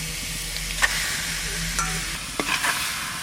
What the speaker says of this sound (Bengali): মাংসটা ধুয়ে পরিষ্কার করে নিয়ে এসেছি এবার কড়াইতে দিয়ে দেবো